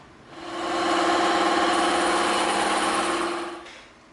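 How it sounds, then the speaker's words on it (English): A bandsaw cuts through EVA foam with a steady high whine that builds up, holds for about three seconds and then fades away. The sound is close by and there are no voices. "We're going to slice it right through on the bandsaw."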